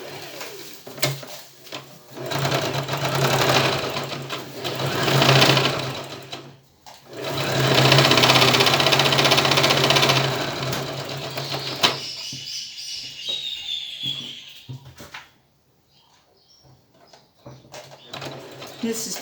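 Sewing machine stitching hat lining pieces together, running in long steady whirring bursts up close with short pauses, while someone talks over it and birds coo faintly in the background.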